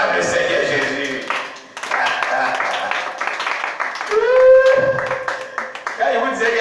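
A church congregation applauding and clapping to acclaim Jesus, steady crowd clapping mixed with voices and music, with a preacher speaking over it.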